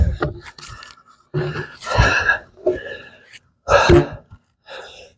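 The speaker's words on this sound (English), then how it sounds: "You can see I'm already breathing hard." Heavy, labored breathing during an outdoor full-body workout: a series of loud, uneven gasps and huffs in close bursts with short pauses between.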